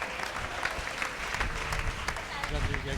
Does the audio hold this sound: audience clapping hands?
yes